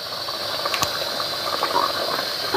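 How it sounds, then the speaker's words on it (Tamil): A pot of dum biryani bubbles and hisses softly with steady steam and small gurgles, a brief clink near the start, all close and fairly quiet. "நல்லா கொதிக்க ஆரம்பிச்சிருச்சு."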